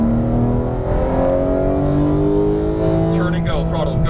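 A high-performance race car on a racing track accelerates on throttle, its engine note climbing steadily and loudly up through the revs, with a driving instructor's voice coming in toward the end.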